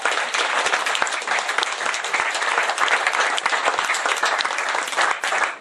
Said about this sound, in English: So I'd like a round of applause for my bride.